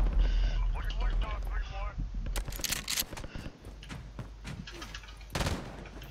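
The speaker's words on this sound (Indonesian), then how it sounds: "Aku punya weapon ni sebiji-sebiji tembak." A weapon fires single shots in the video game Modern Warfare: a few separate sharp cracks, spaced out rather than in bursts, set against game background noise and a talking player.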